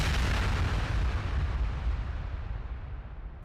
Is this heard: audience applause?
no